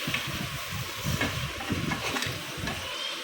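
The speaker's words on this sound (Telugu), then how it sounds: "తర్వాత ఇలా బాగా మిక్స్ చేసుకోవాలి" Goat head curry with masala being stirred in a pan, producing a steady scraping, sizzling texture of repeated stirring strokes, close and continuous with no talk.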